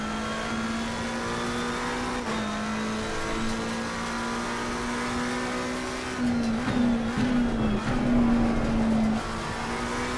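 A McLaren 720S GT race car drones steadily at high revs around Mount Panorama in Assetto Corsa Competizione. The engine pitch holds, dips briefly, then climbs and wavers near the end, loud and up close with no talk.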